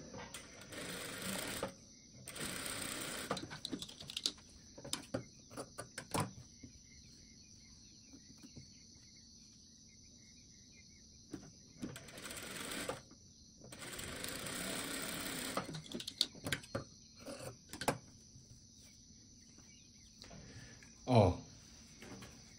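A sewing machine stitching fabric strips together for a quilted strip project, running in several loud, close bursts of rapid stitching separated by quiet pauses and small handling clicks.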